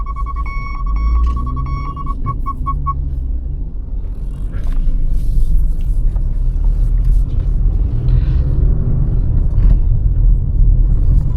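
Cabin of a Maruti Brezza facelift as it speeds up on an empty open road, a deep, loud rumble swelling steadily, with a short beeping chime at the start.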